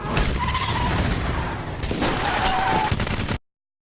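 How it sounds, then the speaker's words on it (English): Chaotic bursts of rapid gunfire from a film car chase scene mixed with crashing impacts and engine noise, loud and dense throughout, then cutting off abruptly into silence. "Because of the gunshots?"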